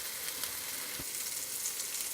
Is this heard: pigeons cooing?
no